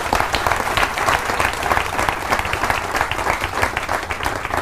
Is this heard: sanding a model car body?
no